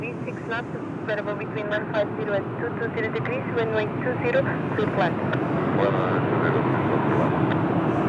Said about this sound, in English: we have a turboprop alert on short final